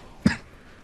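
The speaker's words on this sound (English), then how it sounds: "Coughing." A single short cough, close and fairly loud, heard on its own amid a quiet background during a session of the game Left 4 Dead 2.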